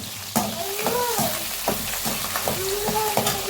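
Curry leaves crackle and sizzle in hot oil in a pan while fenugreek curry is being made, with steady close frying noise and a few sharper pops and stirring scrapes.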